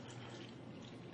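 Kangen water poured steadily onto a tea bag in a cup, a continuous close splashing and trickling pour that holds level throughout the short moment.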